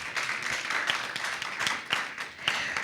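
An audience claps after a debate speech, a sustained patter of many hands heard fairly close, steady for a few seconds with a few sharper individual claps poking through.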